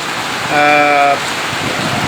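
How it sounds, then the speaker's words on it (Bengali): Heavy rain with a light wind hisses as a steady broadband wash in Naria, Shariatpur, and a brief tonal voice-like sound rises over it in the middle. "প্রচুর বৃষ্টি কিন্তু শুরু হয়েছে এবং হালকা বাতাসও কিন্তু রয়েছে"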